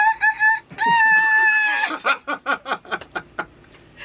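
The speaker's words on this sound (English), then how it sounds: "this rooster in the background now does spoil everything" A rooster crows loudly and nearby in one long call, followed by a rapid series of short clucking bursts.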